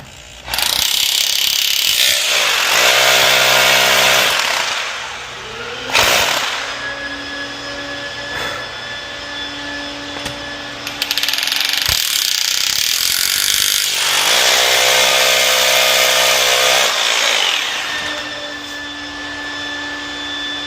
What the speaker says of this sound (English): Now I drill the 2 holes.